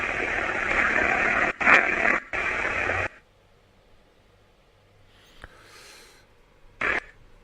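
Loud radio white noise static hisses in bursts for about three seconds, cut by brief gaps, then drops away to near silence before one short final static burst.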